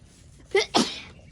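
A single close, sharp sneeze with a quick intake of breath before it, in an otherwise quiet space.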